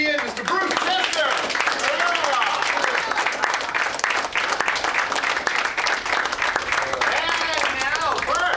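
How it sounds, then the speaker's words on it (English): Audience applause and whooping greet a stand-up comedian at a live troupe show, a dense, steady roar of clapping from a crowd that carries on throughout. "a big round of applause for our opening act tonight"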